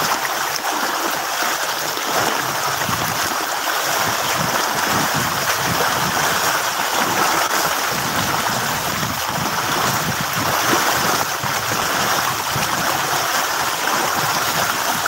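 Steady rushing roar of floodwater along a street in España, Manila after light rain, a continuous broad wash of flowing water mixed with wind buffeting the microphone, with no clear speech.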